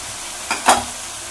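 Yogurt being sautéed in a pan with boiled mixed vegetables for veg pulao, heard as a short stir with two quick bursts of sizzle over a low steady hiss, close by with no talking.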